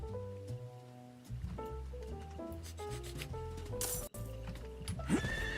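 A horse in the video game Diablo IV gives a loud, close whinnying neigh with clopping hooves and rubbing gear, set over steady tonal game music.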